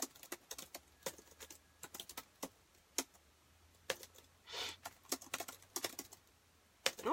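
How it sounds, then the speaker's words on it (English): Someone types on a computer keyboard in a quiet room, tapping out uneven bursts of sharp keystrokes with short pauses between them. "Oh, I can't type."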